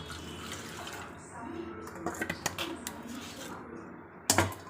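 Water poured into a cooking pot for a Tamil New Year vegetarian dish, a soft running splash followed by a few utensil clinks and a sharp knock at the end.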